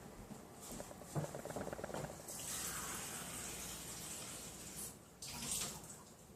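Water pours in a steady splashing stream into a bowl of rhubarb for a few seconds, preceded by faint clinks and small handling sounds.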